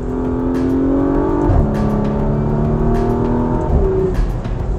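A 2020 Porsche Macan Turbo with a PDK gearbox accelerating hard, its engine note climbing and then dropping abruptly at two quick paddle-shifted upshifts, loud and close with no pause in power.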